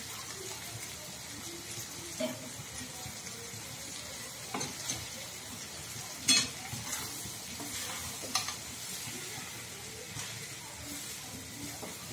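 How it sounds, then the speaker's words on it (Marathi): Crumbled leftover roti (chapati) stirred and frying in a pan, with a soft steady sizzle under scraping stirs and a few sharper spoon clinks against the pan, close and fairly quiet throughout. "आणि आता चुरा टाकतोय पहा। हे मिक्सर मधून काढून घेतला आधी पोळ्यांचा चुरा।"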